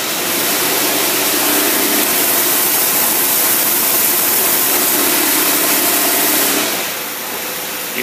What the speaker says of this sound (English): you couldn't ask for a better running carburetor than that